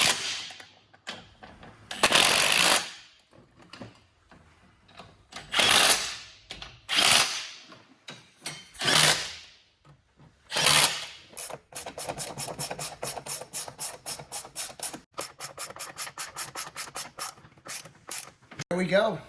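Golf cart running board bolts are tightened with a ratchet, giving a series of loud, drawn-out ratcheting bursts, then a long stretch of fast, even clicking close by, with no talk.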